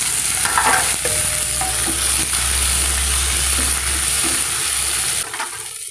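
Onion, garlic and tomato frying in a pan, a loud close sizzle with constant stirring and scraping that suddenly quiets near the end.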